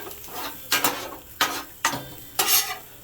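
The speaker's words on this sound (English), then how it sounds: "We're going to clean the grill." Metal scraper strokes across a 22-inch Blackstone griddle top, pushed past onions and peppers, giving four or five rough, sizzling scrapes in an uneven rhythm, loud and close with no talking.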